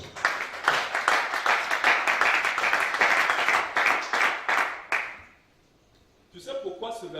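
A church congregation at a teaching service in Gabon claps loudly and steadily for about five seconds, dense and close, then falls silent before a voice begins speaking.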